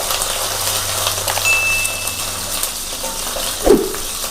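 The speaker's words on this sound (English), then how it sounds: "add curry leaves and green chilli and mix it well. Let it splatter nicely" Curry leaves and green chillies spluttering in hot oil in a pan, a steady crackling sizzle with a louder pop near the end, close by.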